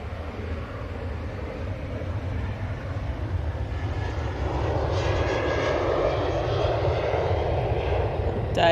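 A Virgin Atlantic airliner lands head on, its steady engine roar building gradually from a low rumble to a louder, broad whoosh as it nears, with no talking.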